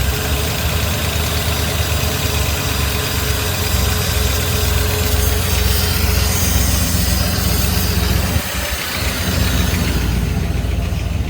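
A 1997 Ford pickup truck with about 215,000 miles and no coolant idles steadily after starting, its loud close engine rumble continuous and even, with a brief dip in tone near the end.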